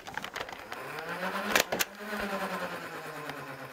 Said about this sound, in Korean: 모터 버튼을 먼저 누르고 회전수가 충분히 높아졌다 싶을 때 방아쇠를 당기면 다트가 발사됩니다